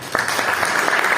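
Audience applause rises as a regional director of Morocco's vocational training office takes the stage at a Fès-Meknès seminar: a brief, loud, close wash of many hands clapping together without a break.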